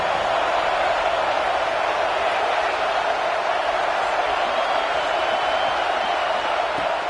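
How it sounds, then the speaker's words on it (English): Dense, steady roar of a home crowd cheering at a college football game in a video game, a loud wash of noise with no breaks. "this home crowd is fired up and ready to make a difference today"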